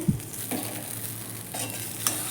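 Torn roti pieces stir-fry in oil on a low flame, a continuous soft sizzle broken by occasional scraping stirs of the spoon against the pan.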